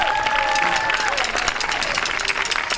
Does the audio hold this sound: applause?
yes